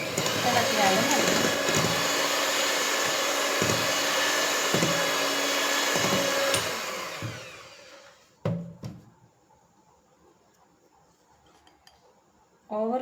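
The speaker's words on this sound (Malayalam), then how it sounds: "മൈദ ചേർക്കുമ്പോൾ പതുക്കെ ലോ സ്പീഡിലിട്ട് ബീറ്റ് ചെയ്താൽ മതി" An electric hand mixer beats cake batter with flour at low speed, whirring steadily with regular knocks against the bowl, then cuts off, leaving a few clinks and brief sounds.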